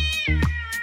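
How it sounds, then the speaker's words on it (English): A cartoon cat in a funny animated short lets out a loud, close, drawn-out meow with a bending pitch, followed by a shorter second cry. "This is a crazy cat."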